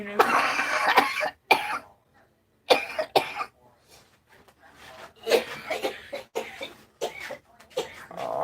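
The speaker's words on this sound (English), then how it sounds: "Coughing fit. I inhaled the fuzz." A person in a fit of harsh, repeated coughing after inhaling fuzz, bursts of hacking and throat clearing separated by short pauses, close and loud.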